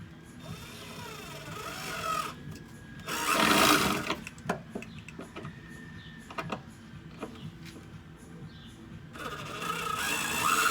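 Power drill driving screws into wood while building a pallet bar: bursts of whirring motor, the longest around the middle, separated by clicks, handling knocks and short pauses, without speech.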